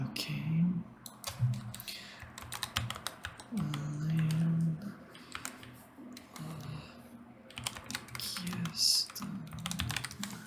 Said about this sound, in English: I'm gonna write this down just so you guys hear the keyboard